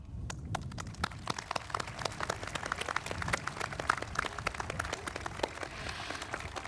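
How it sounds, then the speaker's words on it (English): A crowd at a high school commencement claps for the graduating seniors, a continuous patter of many hands with crisp individual claps scattered through it, sustained and fairly close. "A huge round of applause to you all"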